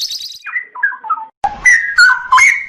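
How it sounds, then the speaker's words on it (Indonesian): A caged lovebird calls in a rapid run of bright, high chirps and warbling whistles. A short pause divides the calls, then a louder, denser burst of twittering follows up close. "Ini burung lovebird."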